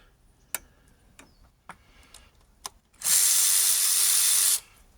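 A small electric impact tool removing bolts from a Jaguar V8 engine: several sharp clicks and taps, then one loud, steady whirring burst lasting about a second and a half, close by.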